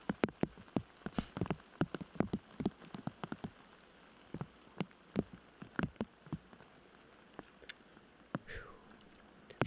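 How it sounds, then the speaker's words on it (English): Rain patters across a lake in sharp, scattered drops, close and fairly loud, with uneven rhythm and no voices. "It's still raining on half of the lake over there."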